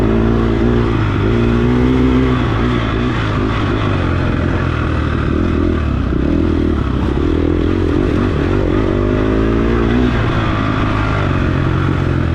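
Dirt bike racing through the woods: a loud, close motorcycle engine drones and revs continuously with shifting pitch, accompanied by clattering and scraping over rough terrain.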